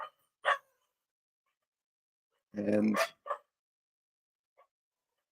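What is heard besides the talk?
dogs barking at a passing delivery truck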